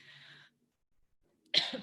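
A single sharp, close cough bursts out after a brief pause of near silence, with a faint breathy sound just before.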